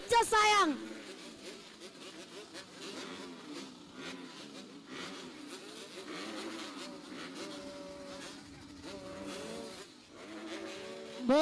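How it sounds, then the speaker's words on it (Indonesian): Racing engines roar at the start of an FFA Open race at a circuit with 17 riders, a loud whining drone of many revving motors rising and falling, with a commentator talking over it. "Mesin sudah mulai meraung."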